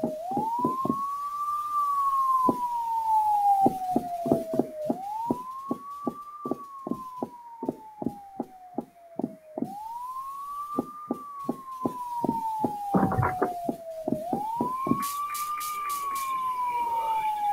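A police siren in a horror video game wails in repeated rising-and-falling sweeps, loud and continuous, under a steady pulsing rhythmic thud, with a brief burst of clatter near the end.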